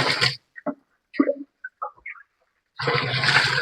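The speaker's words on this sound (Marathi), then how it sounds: "आता राहिलेलं आपण तीस लिटर पाणी टाकत आहोत" Water splashes and gushes in bursts as it is poured into a farm-made amino acid tonic mixture, with short gurgles between louder pours at the start and end.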